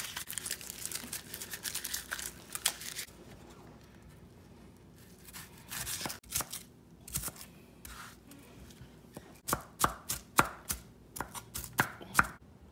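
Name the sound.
knife chopping onions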